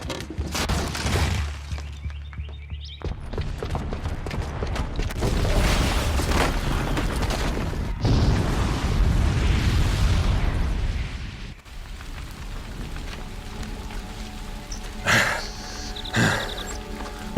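A booby-trapped bomb going off in Horizon Zero Dawn, a long loud roaring blast with rumbling debris that settles into a quieter tail with a few sharp late impacts.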